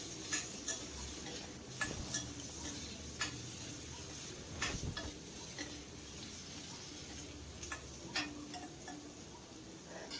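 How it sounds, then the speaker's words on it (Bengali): Eggplant pieces fry in a pan over a medium flame while being stirred, giving faint, scattered scraping clicks over a low, steady sizzle. "এমনিতেই শুধু বেগুনটাকে এইভাবে নাড়াচাড়া করে মিডিয়াম ফ্লেমে ভেজে নিতে হবে।"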